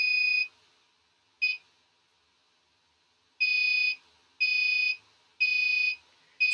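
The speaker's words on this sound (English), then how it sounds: "So if you want a very quick buzzer tone, then you can give a less delay." An Arduino Uno buzzer emits sharp, high electronic beeps set to a 500 ms delay, each tone lasting about half a second, sounding in an irregular on-off pattern with silent gaps between.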